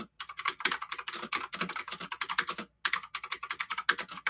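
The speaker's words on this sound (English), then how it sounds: "Rapid clicking." Rapid, continuous clicking on a computer keyboard during a tabletop Dungeons & Dragons session. Keystrokes patter quickly and closely, with one brief pause midway, and no voices are heard.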